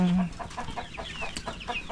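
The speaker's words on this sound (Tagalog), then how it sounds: "bakit dami naman ng manok" Chickens cluck and chatter in short bursts, with a brief low tone at the start and steady background noise.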